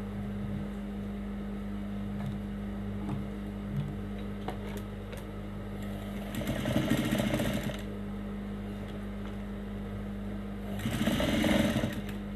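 A sewing machine stitches dress lining in two short, steady runs of rapid mechanical whirring, close and clear over a constant low background hum.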